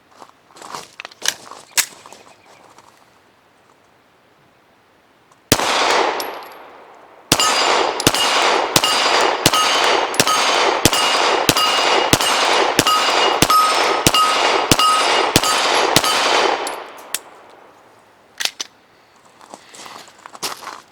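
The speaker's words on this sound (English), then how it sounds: "I'm going to try to hit that steel plate." Shots from a Canik TP9 SF Elite pistol ring out in a rapid string of about a dozen sharp reports, each with a metallic clang as rounds strike a steel plate 25 yards away, bracketed by quieter handling noises.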